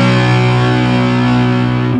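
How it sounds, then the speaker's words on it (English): A heavily distorted electric guitar power chord is struck once and left ringing unmuted, sustaining thick and even for about two seconds with no talking. "Because if we weren't touching the strings at all, it would sound like this."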